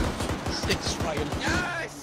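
A .50 caliber machine gun firing in a military video game, a rapid steady rhythm of heavy thumping rounds running through the whole stretch, with a voice shouting over it.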